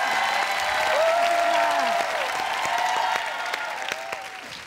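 A studio game-show audience bursts into loud applause and cheering for a contestant, a dense sustained clapping that slowly tapers off.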